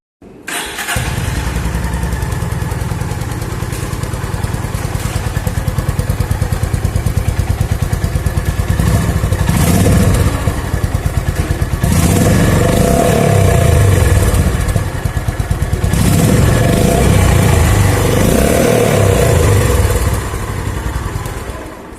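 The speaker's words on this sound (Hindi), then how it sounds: "मैं एक फायरिंग आपको सुना देता हूँ एक गाड़ी की" A new Honda CB350 motorcycle engine fires and runs close by, its exhaust note thumping steadily for over twenty seconds with a few rising revs and dips, no talking.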